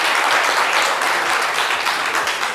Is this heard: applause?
yes